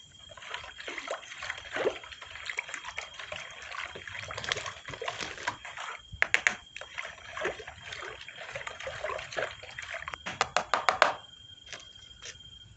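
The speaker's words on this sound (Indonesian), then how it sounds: "Tambahkan airnya." Water pours and splashes into a bottle and sloshes as it is mixed, with irregular trickles and splatters that come and go at close range.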